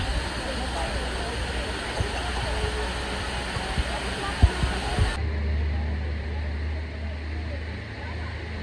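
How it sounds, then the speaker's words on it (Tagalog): Tamaraw Falls in Puerto Galera roars as a loud, continuous wash of falling water. The sound cuts abruptly partway through and a quieter, duller rush continues after it. "Tamarong Falls"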